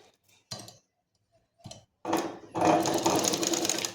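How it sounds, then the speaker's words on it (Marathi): A sewing machine stitches folded fabric along a kurti collar, first in two short separate bursts, then in a steady, loud, close whirring run that grows denser toward the end. "तर इथे आपण हे कापड असं फोल्ड करून टिप मारून घेणार आहोत."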